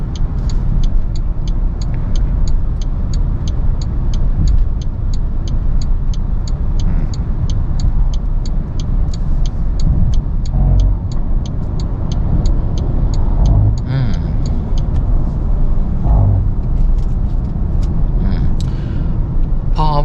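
A Maxus 9 MPV pulls onto a motorway, a steady low road and engine rumble filling the cabin throughout with faint ticking and occasional thumps, no talk over it.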